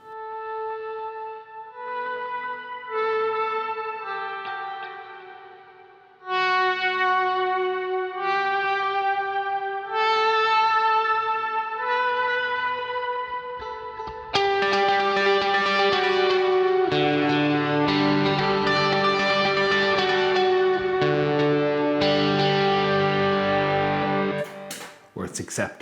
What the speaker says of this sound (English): If I choose to do it from this patch, I have the high up echo effect.